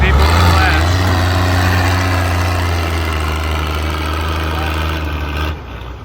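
A diesel pulling tractor's engine runs at a deadweight pulling event, a loud, steady low rumble that holds for several seconds and then drops off near the end.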